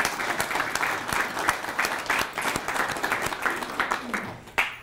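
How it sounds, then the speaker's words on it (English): An audience at a Kansas City mayoral proclamation event bursts into applause, a loud, dense patter of many hands clapping close by that thins out near the end, with scattered voices underneath. "You are deserving of your own round of applause."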